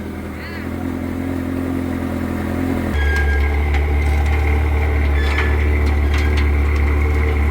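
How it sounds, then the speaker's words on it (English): A 2002 Ferrari 360 Spider's engine cold-starts: a steady whirr suddenly gives way to a deep, loud, steady idle rumble that fills the rest of the clip. "Cold start, we get to hear it for the first time."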